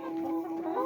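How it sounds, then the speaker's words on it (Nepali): Local chickens in a coop cluck close by in a continuous, overlapping chorus of short, throaty calls. "यो चाहिँ मेरो लोकल कुखुराहरू अहिले यहाँ"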